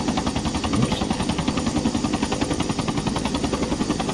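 Bell 212 helicopter rotor and engine in a flight simulator game, a steady rhythmic thumping of blades over a continuous turbine whine, loud and close throughout with no talk.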